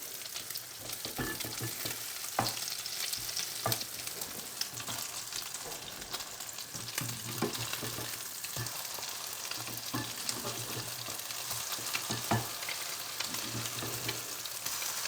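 Hash browns made of potatoes and eggs fry in a pan with a steady, close sizzle for the whole stretch, broken by occasional sharper pops and the scrape of turning.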